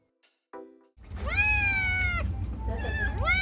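Several cats meow at a crowded multi-cat hoarding site, a short cry followed by longer drawn-out meows and a rising call, close and clear over a low rumbling background.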